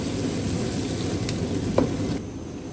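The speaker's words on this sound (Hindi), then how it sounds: "प्याज थोड़ा ब्राउन करते हैं, हल्का ब्राउन।" Onions frying in a pan on a gas stove until light brown for a fenugreek dish, a steady close sizzle throughout with a brief stir clatter near the end.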